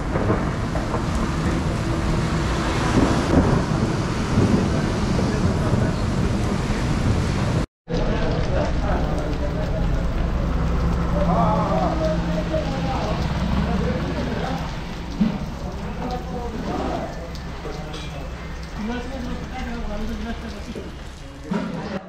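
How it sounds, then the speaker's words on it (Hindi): Heavy rain pours down in a constant hiss, with low rumbles of thunder and a voice speaking faintly beneath it. "भारी बारिश हो रही है, मौसम जो है एकदम बिगड़ चुका है।"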